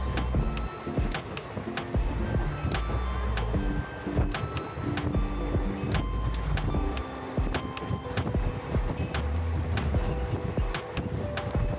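A passenger train travelling from Miraj to Mumbai rumbles steadily throughout, with continuous low clatter and rattling, scattered sharp clicks and occasional tonal squeals from the carriage, loud and close with no talking.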